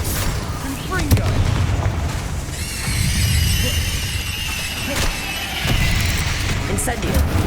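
Confringo explosive spells cast repeatedly in Hogwarts Legacy, heard as booming blasts and bursts with crackling high tones over a low rumble, loud and close, continuing throughout amid other combat spell effects.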